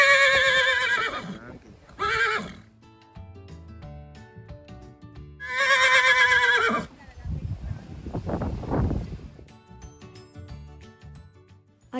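Horses whinny loudly and repeatedly at a riding stable, with long shrill neighs coming in bursts, while hooves clip-clop and thud on the ground between the calls.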